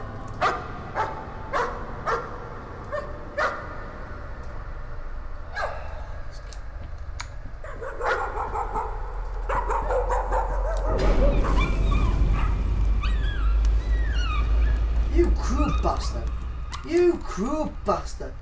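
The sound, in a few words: dog barking and whimpering in a video game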